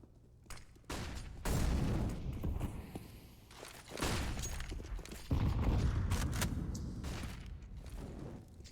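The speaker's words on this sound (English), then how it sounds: "Several grenades going into the connector." Several grenades burst in quick succession during a Counter-Strike pro match, loud booming blasts with rumbling tails arriving in waves over steady game noise.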